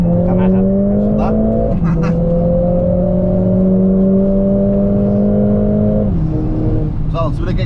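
Mercedes-AMG CLA 45 S with Stage 1 tuning revs hard from inside, its engine note climbing steadily, dropping briefly at a gear change, then climbing again before easing off, loud and close under brief talk.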